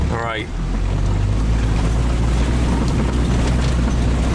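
A farm vehicle drives down toward a cattle pasture, with a steady, loud low engine drone and buffeting wind noise all the way through. A brief voice is heard at the start.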